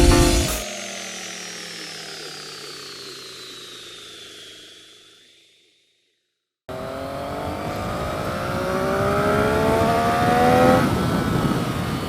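A Triumph Daytona motorcycle out on the road, with engine whine rising and falling in pitch under rushing wind, then a short silent gap before louder riding noise resumes.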